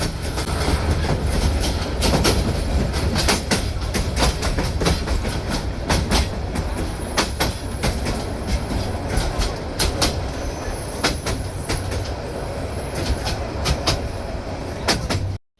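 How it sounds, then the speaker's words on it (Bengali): Mohanganj Express passenger train running through Kaoraid railway station without stopping at night, a loud continuous roar of wheels with steady clickety-clack over rail joints and occasional high squeal, close by for the whole stretch before cutting off. "কাওড়াজ রেলওয়ে স্টেশনে ঢাকাগামী দেওয়ানগঞ্জ কমিউটারকে বসিয়ে মোহনগঞ্জ এক্সপ্রেস থ্রুপাস যাচ্ছে"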